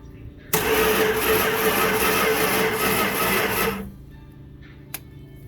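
A 1964 Plymouth Belvedere 318 V8 being cranked with the starter, a loud steady whirring churn for about three seconds that then stops, leaving a low hum.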